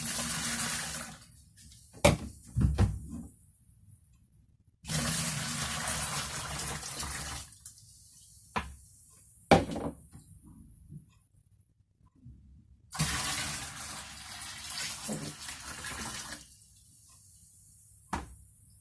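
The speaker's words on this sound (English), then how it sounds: "So I'm going to pour it back into here for the final mix." Liquid film developer (Kodak XTOL) pours into a jug in several long splashing bursts with pauses between, close by, ending in trickles and drips.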